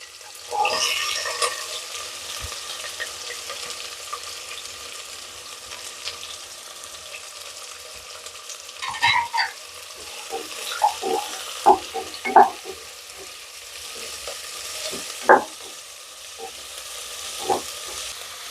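Finely chopped onions frying in a pan for mutton curry, a soft continuous sizzle under scattered clinks and stirring scrapes, with louder utensil knocks in the second half.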